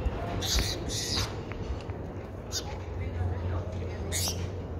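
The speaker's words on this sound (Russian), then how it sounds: "Обожаю воробьев, такие смешные птицы." Short bright sparrow chirps break out in little bursts over a loud, rumbling outdoor background with some talking nearby.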